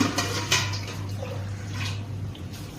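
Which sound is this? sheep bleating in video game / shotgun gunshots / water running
water running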